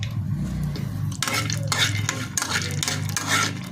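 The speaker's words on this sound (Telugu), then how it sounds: "సో కొంచెం కొబ్బరి నూనె వేయండి, కొంచెం జీలకర్ర అండ్ ఎక్స్ట్రా కొంచెం కోసం పల్లి" Peanuts and cumin seeds frying in coconut oil in a pan for a salad dressing, a steady close sizzle with stirring scrapes and clinks of a utensil against the pan throughout.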